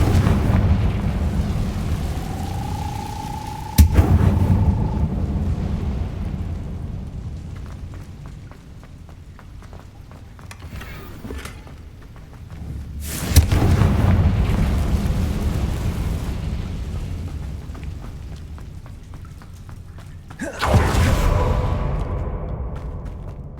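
Fiery blasting-spell explosions from the wizarding video game Hogwarts Legacy: three sharp booms spaced several seconds apart, each with a rumbling decay, over a steady low game ambience.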